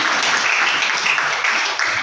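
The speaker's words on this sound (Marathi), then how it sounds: "तुमच्या मुलींसाठी आम्ही सगळ्यांनी टाळ्या वाजवणं करतोय" Audience clapping at a school Balika Din (girls' day) celebration, steady dense applause throughout, loud and close, with no pauses.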